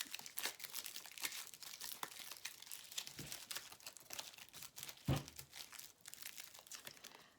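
Tarot cards handled up close with dry paper crinkling and crisp rustles, brief riffles and soft taps running continuously, with one sharper slap near the end; no talking.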